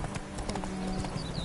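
Hooves of the horse Roach clip-clop in a steady walking rhythm in The Witcher 3, fairly close and clear over a faint ambient bed, with no talking.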